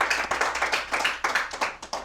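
A small studio audience claps for comedians Trey Galyon and Matt Jones on a talk show, in a short burst of close, evenly paced hand claps.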